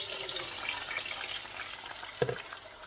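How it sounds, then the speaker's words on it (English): Seasoned cream style corn pours into hot oil in a skillet with a wet sizzling hiss, moderately loud and close, and a sharp splattering burst near the end. "I'll take my fully seasoned corn and I'm gonna pour it in the skillet."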